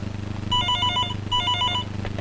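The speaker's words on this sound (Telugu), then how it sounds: "ఉండు, ఫోన్ వచ్చింది." A telephone rings with an incoming call in a home scene, two loud bursts of rapid trilling electronic rings separated by a short pause, alone with no voices.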